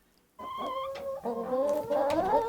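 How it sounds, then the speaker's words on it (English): A chicken clucking sample plays back from a synth, a short run of harmonic clucks and squawks that starts abruptly after a brief silence and stays loud, close and alone. "this sound, the chicken"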